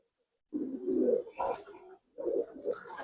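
Pigeon cooing, from a bird kept among coloured Giribaz fancy pigeons, comes close and fairly loud in two low throaty bursts separated by a short pause, with no talk over it.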